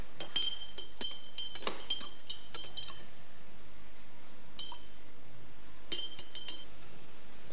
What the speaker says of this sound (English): When I put the sand in, I'm gonna stir it four times.